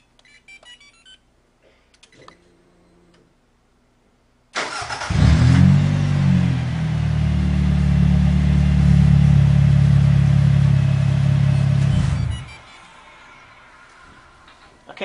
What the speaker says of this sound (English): we're going to go ahead and remote start the vehicle to place a load on it